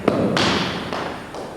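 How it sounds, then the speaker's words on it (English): A fives ball driven cross-court on a fives court, one sharp close thud off the hand followed by quick echoing hits off the walls, loud and alone. "Another drive that we can play is the cross-court drive into the opposite corner."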